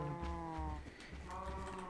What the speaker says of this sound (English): And here is my cows.